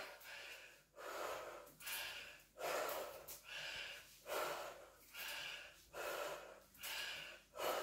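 Heavy, rhythmic breathing during a high-intensity interval workout, about eight deep gasping breaths in a steady cycle, close and loud with no talking.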